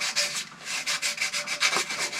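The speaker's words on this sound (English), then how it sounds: "I have a little bit of emery cloth here and sanding sponge. Just do a little bit of hand shaping" Emery cloth and a sanding sponge rub over an old knife by hand, about a dozen rhythmic scratchy strokes back and forth, close and distinct with no talking.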